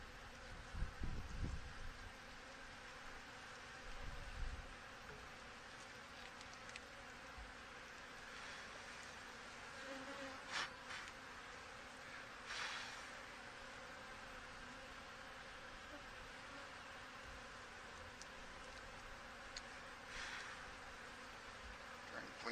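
Steady, low insect buzzing from many honey bees in an open hive fills the whole stretch, with occasional soft handling noises and brief bumps near the start.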